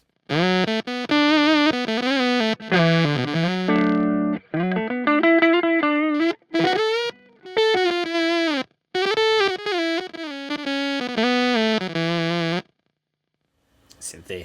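A thick, buzzy synth-like guitar tone from a Meris Enzo pedal set fully to synth plays a run of sustained notes and short phrases, loud and processed, breaking off near the end.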